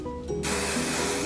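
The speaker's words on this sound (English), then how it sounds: "So now I'm going to give it one last spray while it's kind of cooling." Hairspray hisses from an aerosol can onto freshly styled beach-wave hair, a brief quiet moment then a loud, steady spray burst that continues to the end, close and with no voices.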